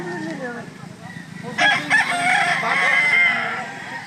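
A Golden Boy bloodline rooster lets out a loud, strained crow at a chicken sale, rising sharply midway and holding for about two seconds, with clucking and chatter around it.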